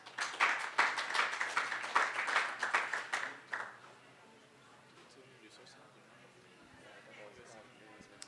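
Applause from a student government debate audience for the vice presidential candidates, a dense burst of clapping lasting about three seconds before dropping to quiet room tone.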